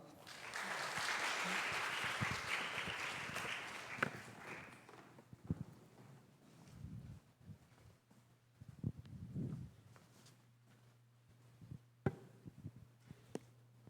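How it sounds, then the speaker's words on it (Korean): Audience at a church youth worship service clapping in a loud, dense burst of applause that fades after about four seconds, leaving scattered thumps, shuffling and a low hum. "우리 한 번 더 우리 박수로 격려하면 좋겠습니다"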